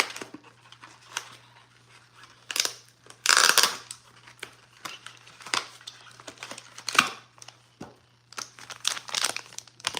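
Close, crackly crinkling and rustling of plastic packaging being opened around fondant, coming in irregular bursts with brief tearing sounds between quieter handling.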